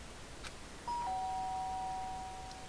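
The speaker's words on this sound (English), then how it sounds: "I was brought back to the reality by the sound of the doorbell." Two-tone electronic doorbell chime from the Danganronpa video game, a single ding-dong ringing clearly and sustaining briefly over quiet background.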